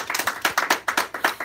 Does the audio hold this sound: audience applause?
yes